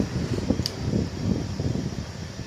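A household electric fan runs with a soft, steady whoosh of moving air at low level, unchanging throughout and heard alone.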